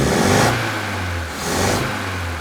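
The four-cylinder engine of a 1964 Triumph TR4 is blipped twice, each brief rev rising over a steady idle, heard close with no speech.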